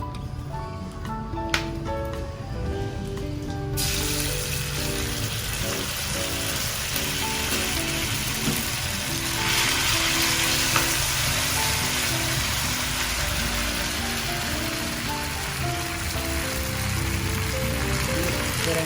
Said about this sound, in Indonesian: kita goreng tauco semuanya ya.